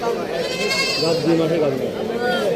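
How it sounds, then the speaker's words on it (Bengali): Large goats bleating at a busy village livestock market in Hoybotpur, with wavering, drawn-out bleats close by that overlap one another continuously over a dense background of market noise. "ছাগল দেখতে পাচ্ছি বড় ছাগল কি জাতের ছাগল এটা"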